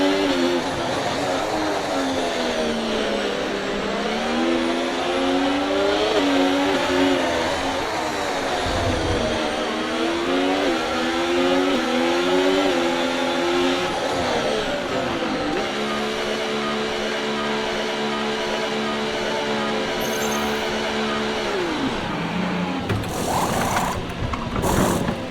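An F1 car in a racing video game during a pit stop at the Mexico Grand Prix, with a steady engine drone that rises and falls in pitch, then a held tone and whirring mechanical rattles toward the end.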